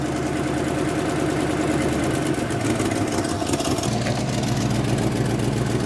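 A V8 Ford Mustang engine, revived after sitting 22 years, idles low at about 570 RPM, a steady, loud, continuous rumble with a lumpy pulsing beat that holds unbroken throughout.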